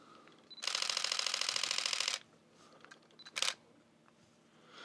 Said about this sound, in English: It's got 14 frames per second burst mode, which is which is great.